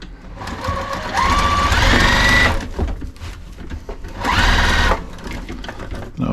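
A sewing machine stitches a fabric dome shade cover in two loud, sustained runs, each starting slowly and speeding up, with a short pause between them and handling noise throughout.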